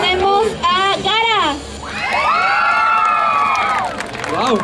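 An audience at a children's cosplay contest at an anime festival cheers and claps, with high excited shouts and squeals from children and adults over light applause, loud and close.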